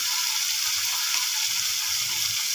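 Spice paste sizzles steadily in hot oil, a continuous bright crackling hiss with no voices.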